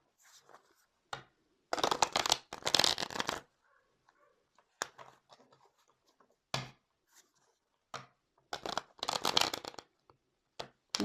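A deck of tarot cards is shuffled in bursts of dry riffling and rustling. Longer crisp runs alternate with short taps and quiet gaps, close and fairly soft, with no talking.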